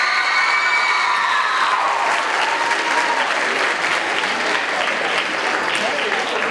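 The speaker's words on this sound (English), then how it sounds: "How about one more round of applause for Ariana Acosta and Genoa Acosta." Audience applause for young contestants at a Robert Frost poetry bee, a dense, loud, sustained wash of clapping with a few cheers and voices mixed in throughout.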